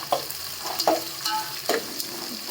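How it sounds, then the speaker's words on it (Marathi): Onion and whole spices (cloves, green cardamom, star anise, cinnamon) frying in a pan for spicy prawn rice, giving a soft steady sizzle with a few brief stirring scrapes, fairly close and without talk. "कांदा चांगला फ्राय होऊ देते आता आता याच्यात खडे मसाले टाकते"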